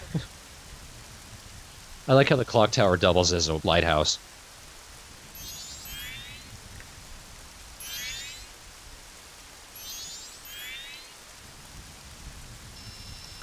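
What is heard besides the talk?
rain falling in a video game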